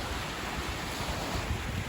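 Steady wash of sea waves breaking on a deserted beach, a constant broad roar with wind mixed in, no voices.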